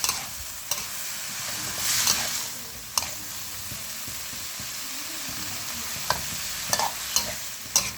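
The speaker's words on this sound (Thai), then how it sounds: "เรามาผัดให้เข้ากันครับผม" Bean sprouts and pork blood stir-fried in a pan with a steady sizzle, broken by sharp scrapes and clacks of the spatula on the metal at irregular moments, close and alone with no talk.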